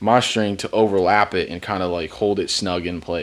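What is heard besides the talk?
No distinct noise like a dog, phone or traffic.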